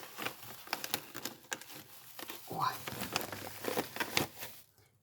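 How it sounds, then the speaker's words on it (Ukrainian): A plastic bag is opened with crinkling and rustling close by, amid soft handling noises at a produce counter, in short bursts. "я зараз відкрию пакет"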